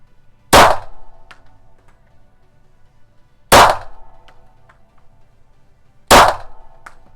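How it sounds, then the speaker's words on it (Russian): Three sharp shots from an M45 Strela gun at a target land a few seconds apart, each a loud crack with a short ringing metallic tail, and quiet in between. "Будем стрелять 5 патронами. Стреляю опять же в центр."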